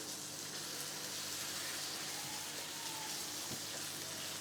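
Chicken livers fry in a pan with spices, giving a dense, steady sizzle that fills the whole stretch, close and even, with no voices over it.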